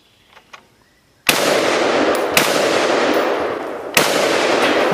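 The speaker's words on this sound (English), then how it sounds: "Let's shoot this watermelon left-handed." An FS2000 rifle chambered in .223/5.56 fires at a watermelon, three sharp loud gunshots each followed by a sustained ringing echo, with quiet ambience before the first shot.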